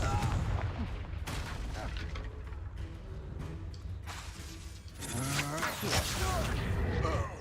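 The Confringo blasting spell is cast in the video game Hogwarts Legacy, producing bursts of explosive impacts and crackling over a rumbling game soundscape, with a voiced line in the game near the end.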